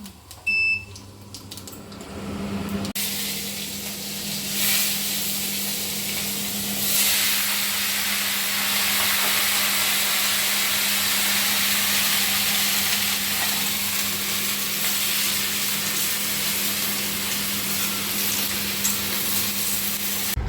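A five-spice tempering fries steadily in a hot pan at home, a dense continuous sizzle and hiss close by that sets in after a short quieter start and holds loud and even throughout.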